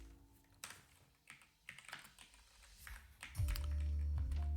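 Close keyboard typing while writing F# code in a live session, a run of uneven clicky key taps that ends under a loud, steady low hum.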